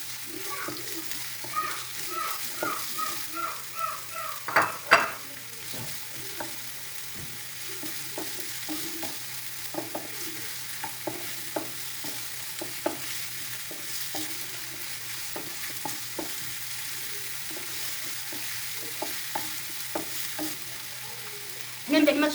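Chopped onion and three cloves of garlic fry softly in a pan, with a faint, steady sizzle, occasional stirring scrapes and light clinks in the first few seconds, then a low continuous frying hiss.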